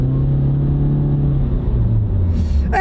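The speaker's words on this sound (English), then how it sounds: "We'll give it a little gas." A Honda car with a continuously variable transmission accelerates from a corner, its engine rumbling in a low steady drone that swells toward the end, heard from inside with no talking.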